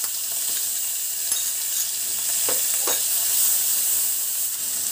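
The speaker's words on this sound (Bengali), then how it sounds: "চিংড়ি মাছগুলো ভেজে নিচ্ছি।" Prawns fry in a little oil in a pan with a constant bright sizzle, a few soft stirring clicks and knocks near the middle, and no talking, while fried rice is being made.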